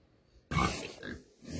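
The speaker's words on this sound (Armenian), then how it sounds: "Խոզերի կերակրելու ժամն է, ձենները դրել են։" Pigs grunting at feeding time on a farm, a burst of close, loud grunts and snorts starting abruptly after a quiet moment and continuing in uneven bursts.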